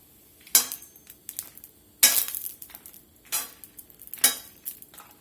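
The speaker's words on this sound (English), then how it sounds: "I'm going to go ahead and start pulling them out of here, drop them over here in this beef stock" Toasted dried red chilies dropped into beef stock for chili colorado. Soft clattering splashes and clinks come at intervals, four distinct hits with quiet gaps between them, close by and with no talk.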